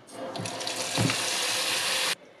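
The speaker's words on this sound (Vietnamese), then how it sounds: "Mình xả nước lạnh vô, ngập mặt tôm." Cold tap water gushing into a bowl of dried shrimp, a steady splashing stream that starts, runs loudly for about two seconds, then cuts off abruptly.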